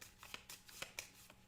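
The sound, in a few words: shuffling a deck of game cards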